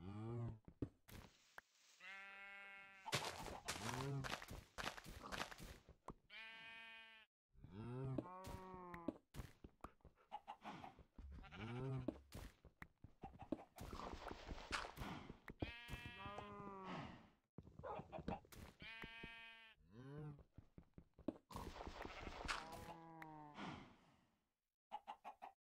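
Video game sheep bleat repeatedly in drawn-out, wavering cries, loud and close, mixed with chicken clucks and a rooster crow in a farm-like game scene, with brief silent gaps and no speech.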